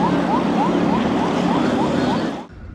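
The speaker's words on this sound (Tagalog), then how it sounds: "binasag ang katahimikan ng malakas na tunog ng sirena mula sa CCG vessel" Loud wailing siren from China Coast Guard vessel 5303 at sea, a repeated rising whoop cycling steadily for over two seconds before cutting off abruptly.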